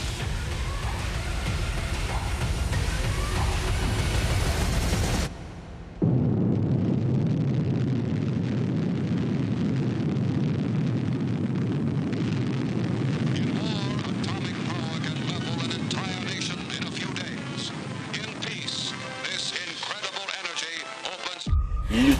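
A low, roaring rumble from the Trinity test of the first atomic bomb, an implosion-type device, swells after a brief gap and holds steady for many seconds, loud and sustained, with a dramatic music-like layer over it.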